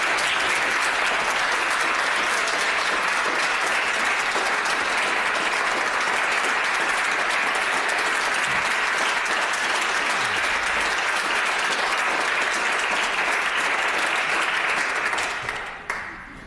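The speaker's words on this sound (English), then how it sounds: "we shouldn't clap in the House," Loud, sustained applause from members filling the House of Commons chamber after a World AIDS Day speech, dense and continuous before fading out at the end.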